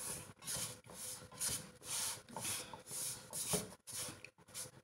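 Wheat flour dry-roasting in a pan for laddu, stirred steadily: a close, rhythmic run of dry scraping and rubbing strokes with short pauses between them, with no voices.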